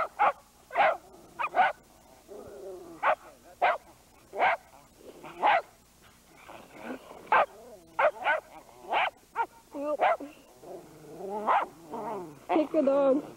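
A Shetland sheepdog barks in sharp, repeated yips and bow-wows during a sledding outing, loud and close, with some whimpering between the barks and people talking over them.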